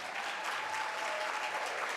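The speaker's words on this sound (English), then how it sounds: "Let's give another big round of applause for Mrs. Monica Pearson." A crowd applauding at a formal Pink and Black Ball gala, steady dense clapping filling the room, fairly even and sustained with no pauses.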